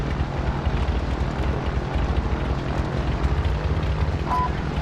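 Helicopter in the video game Warzone, a steady low rotor thrum and engine drone holding at moderate loudness throughout.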